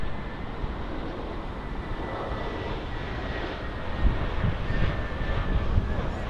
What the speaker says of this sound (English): Here we have another Lufthansa A319 arriving on runway 25